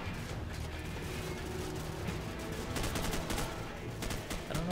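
Gunfire in Call of Duty 4: Modern Warfare, a pistol fired against a tank amid a busy battle, shots blending into a dense, continuous wash of game combat noise with no clear separate reports.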